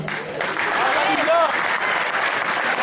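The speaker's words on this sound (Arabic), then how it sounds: "تصفيقات على الفنانة والأستاذة خديجة عبدي" Hall full of people clapping at a Moroccan actor's honoring ceremony, a thick, even wash of applause that stays loud throughout, with brief voices rising above it.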